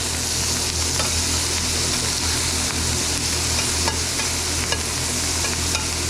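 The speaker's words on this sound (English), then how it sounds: "I'm going to grab a spoon, and we're going to do a little bit of basting" A hanger steak fries in a pan while being spoon-basted with butter and aromatics, giving a loud, continuous crackling sizzle dotted with small spits and pops, steady throughout.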